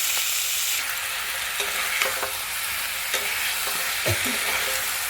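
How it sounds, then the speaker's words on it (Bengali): Tomatoes and a broken dried red chilli fry in a pan with salt, a constant close sizzle under occasional scraping strokes of a spoon stirring the mixture. "এবার এতে একটু নুন দিয়ে দেবো দিয়ে একটু নাড়াচাড়া করবো"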